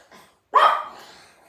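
A dog barks once sharply and loudly at a package delivery, the bark trailing off into a brief rough tail after a faint earlier yelp.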